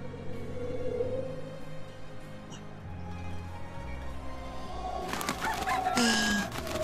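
Chickens cluck and a rooster-like call rises in the farming video game Alterium Shift, with bird calls scattered over steady ambient game sound and a busier burst of clucking near the end.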